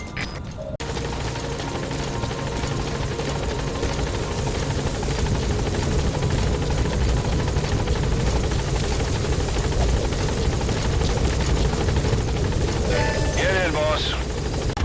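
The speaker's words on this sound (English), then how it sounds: "Coming in on another chopper." A helicopter in Metal Gear Solid V: The Phantom Pain arrives with a loud, steady rotor thrum that fills the whole stretch, alongside faint game sounds and radio voices.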